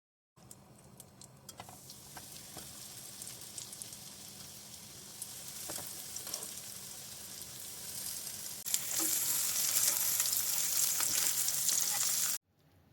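Breaded escalopes fry in hot fat in a pan over high heat, a steady close sizzle that swells louder partway through and holds until it cuts off abruptly.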